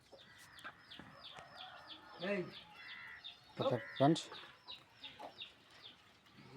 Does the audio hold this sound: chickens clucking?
yes